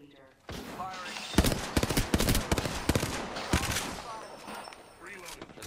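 Gunfire in the video game Apex Legends: rapid bursts of automatic weapon fire, several clustered volleys in a row at close range, with players talking over the shooting.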